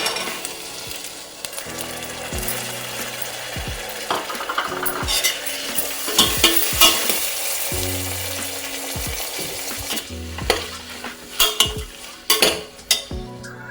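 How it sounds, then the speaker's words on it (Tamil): Mint and peas stir-fried in a pot for peas pulao, a constant sizzle with repeated scraping and clacking of a spatula against the pan. "புதினாவும் பட்டாணியும் போட்டு நல்லா வதக்கிக்கலாம்"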